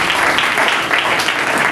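A church congregation applauding and cheering Jesus at a French-language worship service, a dense, steady wash of clapping throughout with a few voices mixed in.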